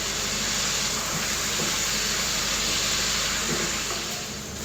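Raw meat for Hakka noodles fries in a pan over a high flame, giving a loud, steady, broadband sizzle and hiss that runs without a break, with no talking.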